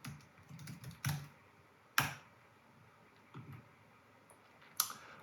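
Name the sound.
typing a class name on a computer keyboard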